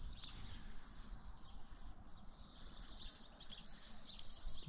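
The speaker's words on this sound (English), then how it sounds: "Cicadas." Cicadas buzz and trill loudly and continuously, the shrill drone pulsing in waves with brief dips, no voices present.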